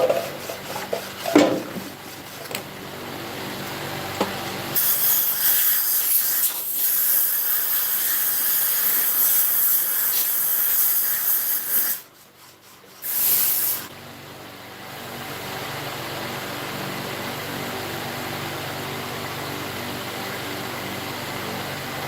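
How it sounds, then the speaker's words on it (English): A compressed air hose blasting out a la145 V-Twin engine, with loud sustained hissing bursts, a long continuous blast and a brief second burst, then a steadier hiss near the end. "Blow it out with air hose."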